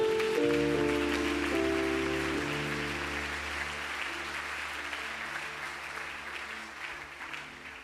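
A congregation applauds during a Sunday church service, a dense, sustained clapping over steady tonal chords that gradually fades over several seconds.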